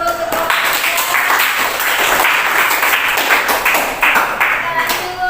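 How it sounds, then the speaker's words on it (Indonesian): A classroom of students gives group 3 a round of applause, dense, close clapping from many hands that continues steadily for several seconds with fairly even loudness. "Beri aplaus dulu untuk kelompok 3"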